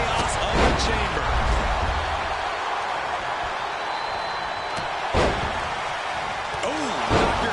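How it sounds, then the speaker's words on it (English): Knee strike impact in the WWE 2K25 wrestling video game: a few sharp slams land over a steady crowd roar, with rising whooshes and faint commentary voices underneath. "knocked your head right off with that knee"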